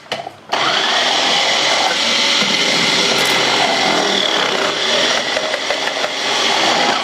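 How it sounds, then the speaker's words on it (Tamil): Smart Bullet Mix chopper cutting carrot, a loud steady motor whir starting after a brief handling sound and running continuously up close, with no talk. "சும்மா கேரட்டை கட் பண்ணி காமிக்கிறேன் இது எப்படி வருதுன்னு பாருங்க"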